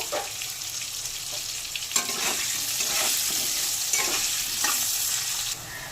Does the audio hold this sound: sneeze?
no